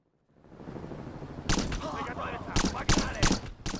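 Gunfire in the first-person shooter video game Black, a rising ambient rumble breaking into loud, sharp bursts of rapid automatic fire with crackling debris, several close shots clustered near the end, under a voice talking.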